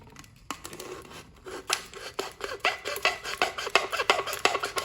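Repeated rasping, scraping strokes of a blade cutting a hole in a thin plastic bottle, close up and growing quicker and louder, with no voices.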